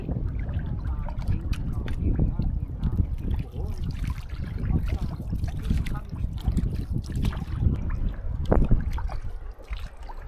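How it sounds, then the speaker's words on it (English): Water laps and trickles gently around a boat off Bohol in the Philippines, a soft, continuous splashing with scattered small clicks and ripples and no clear talk. "you basically have nothing but the sound of the peaceful water everywhere"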